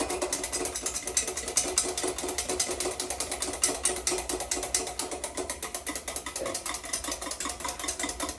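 A whisk beats béarnaise sauce in a bowl, making a fast, steady stream of close, faint rhythmic clicks and scrapes that continue without a break.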